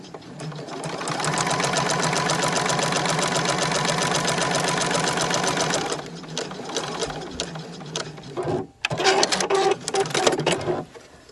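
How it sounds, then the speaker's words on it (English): A sewing machine stitches fabric scraps in a steady, loud mechanical whir of rapid needle strokes. It runs continuously, then breaks into shorter start-stop bursts with a brief pause. "So I want to sew about 1/3 of the way."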